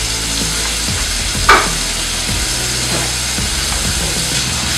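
Bacon fries steadily in a pan on a home stove, a continuous soft sizzle with a brief louder crackle near the start, heard alone at close range.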